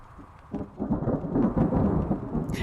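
Thunderstorm in the survival horror game Dead Soil: a deep rolling rumble of thunder swells after a quiet start and keeps grumbling, with a rain-like wash over it and a brief hiss near the end.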